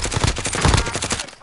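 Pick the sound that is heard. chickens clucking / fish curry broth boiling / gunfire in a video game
gunfire in a video game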